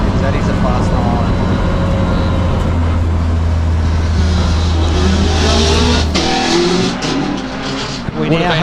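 Race car crossing the finish line at the Legend of the Lakes hillclimb, a loud engine at high revs with a strong low drone that cuts off, followed by fading engine noise and crowd ambience.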